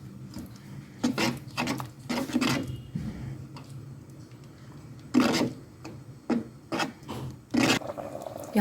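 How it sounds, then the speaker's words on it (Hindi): A spoon scrapes and swirls through soup as a beaten egg is poured in, giving repeated rasping strokes in short bursts with brief pauses between them, close and moderately loud, with no voices. "अंडे को डालते जाएंगे और चम्मच चलाते जाएंगे"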